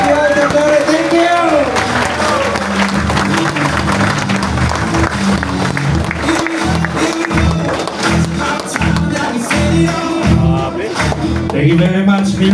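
Sustained applause from an audience at a Filipino speaking event after a motivational speech, loud and continuous throughout, with voices and music-like tones mixed in.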